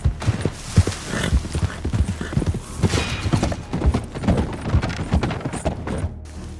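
Horse hooves clip-clop steadily in a video game as a rider travels back toward Valentine, a close, continuous rhythmic trot with a possible brief whinny.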